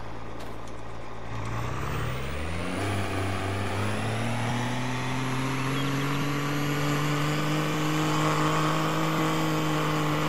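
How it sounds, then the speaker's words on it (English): Engine of a farm vehicle in Farming Simulator 22 revving steadily while stuck in first gear, a sustained droning whine whose pitch climbs after a brief low start, then holds loud and constant throughout with no talking. "revving it. It's not even leaving first gear."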